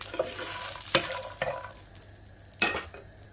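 Lentil bori, sun-dried pumpkin dumplings, are fried and lightly browned in a pan, with a few distinct scraping stirs against a soft background sizzle, close and fairly quiet.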